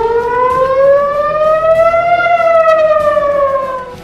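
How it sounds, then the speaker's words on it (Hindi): An air raid siren sounds across Israel during an Iranian missile attack, one loud wailing tone that slowly rises and then falls, steady and dominant with no voices. "पूरे इजराइल में हवाई हमले के सायरन बजने लगे"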